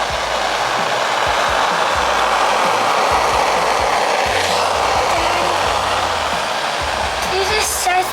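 A heat tool blows on a stubborn tractor brake disc held under a gear puller, a loud, steady, roaring airflow hiss that runs throughout with a faint clink near the end.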